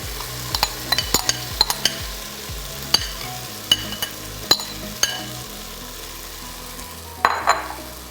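Khmer red curry paste (krung) fries in a pan while a utensil stirs and scrapes it. A steady, close sizzle runs throughout, with repeated sharp clinks and scrapes against the pan and no talk.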